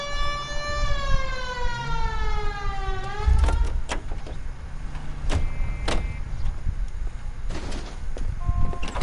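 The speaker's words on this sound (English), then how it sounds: "Hit the siren." A police car siren in the video game L.A. Noire winds down in a loud descending wail, then gives way to clicks, thumps and a door-like clunk with no talking.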